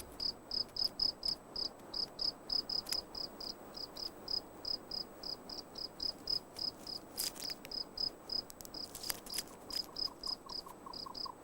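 Crickets in desert savanna, a steady fast rhythmic chirping in regular pulses, clear and moderately close, with a second fainter insect trill joining toward the end.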